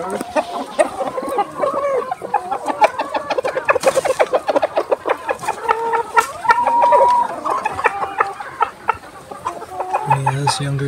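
Young chickens clucking steadily on a natural farm, a dense overlapping chorus of close, busy clucks, with some low voices murmuring underneath.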